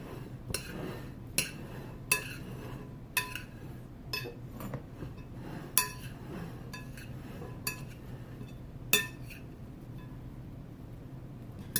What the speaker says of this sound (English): Let's go ahead and give this another stir.